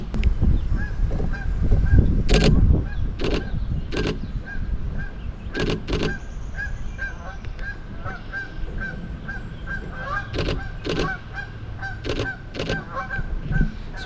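Canada geese by a river honk in short, sharp bursts, several calls grouped in pairs and clusters over a steady outdoor background, fairly close and clear.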